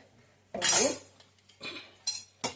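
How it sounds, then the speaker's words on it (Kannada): A few clinks and knocks of a mixer-grinder jar being picked up and set down, close and fairly loud, with short pauses between. "ಒಂದು ಮಿಕ್ಸಿ ಜಾರ್ ತಗೊತಾ ಇದ್ದೀನಿ"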